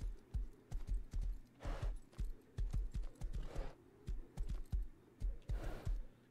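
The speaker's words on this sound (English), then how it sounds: "Come on, horse." Horse hooves in the video game Rust clip-clop in a steady, rapid rhythm, close and crisp, with a few breathy snorts or huffs mixed between the hoofbeats and no speech.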